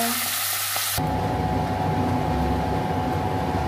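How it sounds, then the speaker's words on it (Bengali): Rohu fish pieces hit hot oil in a pan and burst into a loud, steady sizzle that runs on without a break, with no voices. "মাছ ভেজে নেব। মাছগুলো ভেজে নিচ্ছি, রুই মাছ কাটা"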